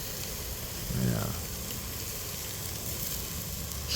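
An onion cooking on a charcoal BBQ grill at a backyard cookout gives a steady, soft hiss and crackle throughout, with a voice briefly speaking over it.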